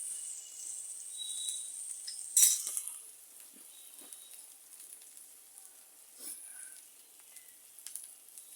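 Oil sizzles in a pan while sponge gourd is being cooked, a steady, faint, high-pitched frying hiss with occasional crackles and small clinks. No one talks.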